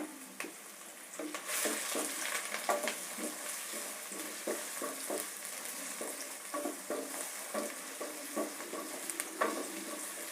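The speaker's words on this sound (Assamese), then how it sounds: "মই নৰ্মেলকৈ মাংসটো ভাজি ল'ম।" Chicken and onions frying in a kadai for biryani give a continuous close sizzle, broken by repeated scraping and clattering strokes as they are stirred at a steady rhythm. No one speaks.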